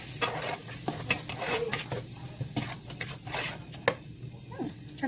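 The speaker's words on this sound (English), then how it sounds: "You can hear the sizzling." Peppers and onions sizzle in a frying pan with seasoning, a soft crackling hiss broken by scraping stirs and clinks of a utensil against the pan.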